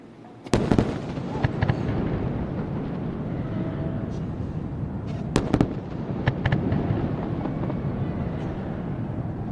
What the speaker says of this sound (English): Let's listen for the sonic booms.